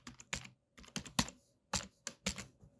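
Rapid bursts of typing on a computer keyboard while entering HTML and CSS code, with irregular clusters of sharp, close key clicks separated by short pauses and no talking.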